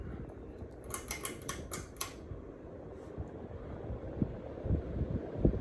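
A 42-inch contemporary flushmount ceiling fan without its light kit, running on medium, gives a steady soft airy whoosh with a low rumble, and a few rapid ticking clicks come early.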